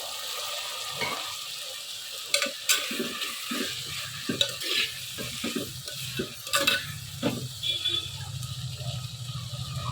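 A spoon scraping and stirring vegetable curry with a little added water in a pan, irregular clattering strokes over a low simmering sizzle, with faint talk in the background.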